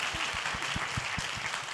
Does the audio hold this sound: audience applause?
yes